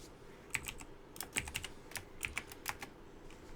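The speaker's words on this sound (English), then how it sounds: "I am so bad at typing. my ultra like boomer style pecking." Slow, uneven pecking on a computer keyboard, with a dozen or so distinct key clicks heard close up against a quiet room hum.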